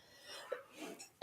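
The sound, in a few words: person coughing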